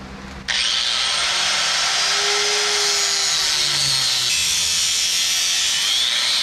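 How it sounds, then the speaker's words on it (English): An angle grinder starts up and runs steadily, cutting through metal fittings on a factory fuel tank with a loud, continuous high whine that holds for several seconds, no voices. "What I'm gonna do is kind of cut them with the angle grinder."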